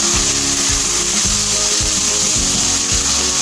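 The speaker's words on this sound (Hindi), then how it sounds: "थोड़ा हल्का हल्का करके थोड़ी देर इसको भूनेंगे।" Mattar keema, minced meat with peas, sizzles and fries in a pan, a loud continuous hiss broken by regular scraping stirs of a spoon, with no voices over it.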